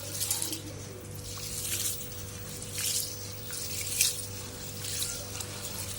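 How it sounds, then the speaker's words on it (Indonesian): Rice is washed by hand in water for cooking on a stove, with soft swishing, sloshing and trickling throughout, a few brighter splashes, and a steady low hum underneath. "Pertama kita cuci berasnya,"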